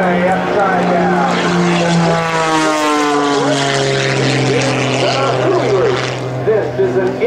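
Sean Tucker's Challenger III aerobatic stunt plane flies an inside-outside loop with a double at the top during an airshow, its propeller engine droning loudly and continuously with a sliding, Doppler-like pitch as it arcs overhead.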